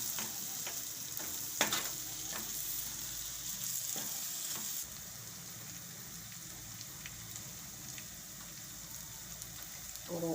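Green turmeric curry simmers and sizzles in a pan as it is stirred after curd is added, a continuous bubbling hiss with occasional scrapes and clinks of the spoon, fairly quiet.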